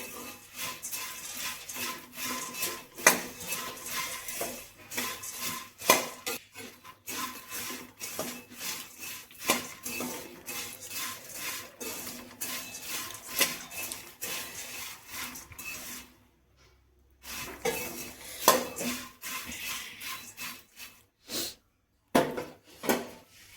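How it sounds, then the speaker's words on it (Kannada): Dry puffed rice tossed by hand with salt and chili powder for masala churumuri, a steady run of close scratchy rustles and rubs with brief pauses, no voices. "ಉಪ್ಪು ಮತ್ತು ಖಾರನ ಹಾಕ್ಕೊಂಡ್ಮೇಲೆ ಒಂದ್ಸರಿ ಚೆನ್ನಾಗಿ ಮಿಕ್ಸ್ ಮಾಡ್ಕೊಳ್ಳಿ"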